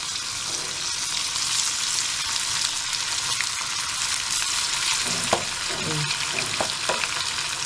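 Chicken pieces frying in hot oil make a steady, dense sizzle throughout, with a few soft clinks and stirring knocks near the end.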